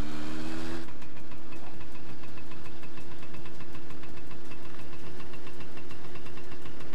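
A small motorbike engine in the game My Summer Car turns over after a brief start and settles into a steady, close, rattling idle that runs on evenly with no talking.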